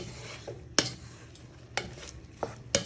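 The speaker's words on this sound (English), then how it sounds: "So you just want to keep stirring it all in so your thyme marinades into your diced beef" Thyme being stirred into diced beef in a hot pan, with a soft sizzle underneath and several sharp scraping clacks of a utensil against the pan at irregular intervals, with no talking.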